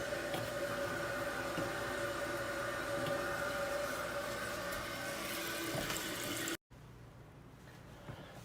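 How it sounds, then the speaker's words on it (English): Water rushes steadily through a toilet's fill valve tower into the tank, a close, continuous hiss and gurgle that cuts off abruptly, then gives way to a quieter trickle. "You'll hear the water coming in through your fill valve tower"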